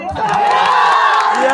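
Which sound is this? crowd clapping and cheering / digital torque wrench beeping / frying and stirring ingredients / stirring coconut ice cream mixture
crowd clapping and cheering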